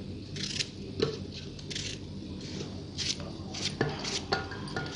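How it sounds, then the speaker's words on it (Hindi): Peeled cucumbers being sliced by knife into a blender jar, heard as scattered light cutting clicks and soft knocks against the jar among faint kitchen rustling, fairly quiet and close. "हम स्लाइस करते हुए इस तरीके से ब्लेंडर जार में डाल लेंगे।"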